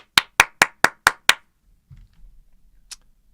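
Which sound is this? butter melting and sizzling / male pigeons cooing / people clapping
people clapping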